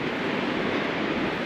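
Ocean surf crashing along the rocky coast at Cape Perpetua, heard as a steady, dense roar that is loud and continuous with no voices.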